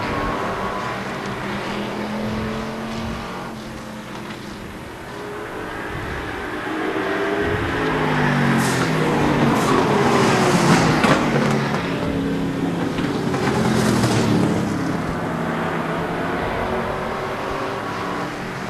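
Race cars at a super short track event, engines droning and roaring as a pack passes, swelling louder through the middle and then easing, with several cars at varying distance and no talk.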